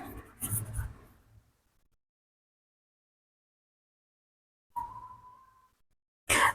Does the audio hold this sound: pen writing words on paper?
yes